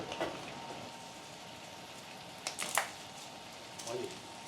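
Beef brisket sears in hot butter in a wok, giving a steady soft sizzling hiss with a few brief louder crackles and spits.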